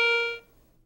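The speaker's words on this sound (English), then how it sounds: "A coin." A single clear electronic tone from a Garrett ACE 150 metal detector as a coin passes over its search coil; it sounds for about half a second and then fades out.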